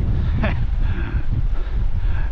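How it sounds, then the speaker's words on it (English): Steady wind buffeting the microphone on Stansbury Jetty while squid fishing, with a low, rushing rumble that carries on throughout, loud and close. "when it is a little bit windy"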